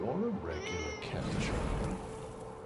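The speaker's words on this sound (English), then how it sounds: "Yes, you're a regular cat." A cat in a video game lets out a drawn-out meow with a rising and falling whine, followed by rustling and faint background noise.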